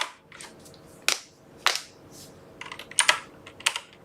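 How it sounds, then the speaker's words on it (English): Fingers type GDScript code on a computer keyboard: irregular clicks with several sharp, louder key strikes, close and alone without speech. "I'm just going to actually get back into the habit of typing out GDScript code"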